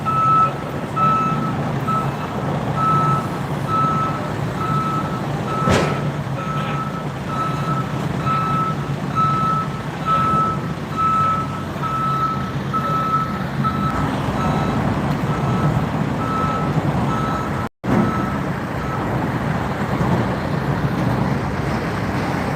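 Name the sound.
military truck reversing beeps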